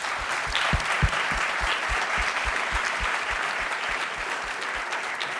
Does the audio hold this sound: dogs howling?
no